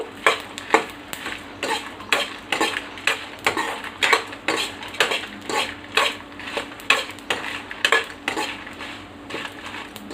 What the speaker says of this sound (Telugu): ఈ విధంగా లైట్గా దూరగా వేయించుకోవాలి, మాడనియద్దు.